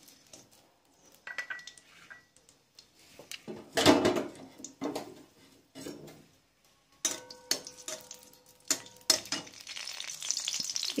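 Green chilies crackle in hot white oil for a cauliflower roast, with bursts of loud sizzling, clattering utensil knocks and stirring scrapes between quieter gaps, close up.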